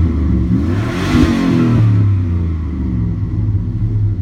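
A 2005 Chevy L33 5.3-litre high-output LS V8 engine with 170,000 miles, warming up, revs to a peak and settles back into a deep, steady idle rumble, close and loud, with no talking.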